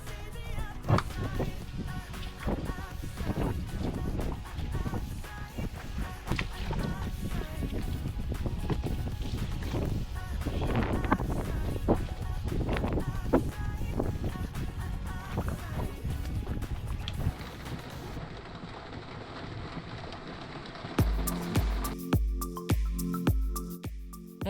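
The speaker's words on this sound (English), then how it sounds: "Now we mop out all that water that came in." Water being mopped out from inside a sailboat's cabin, with wet squishing, dripping and wiping sounds over a steady wind-like background, followed by a brief rhythmic tapping toward the end.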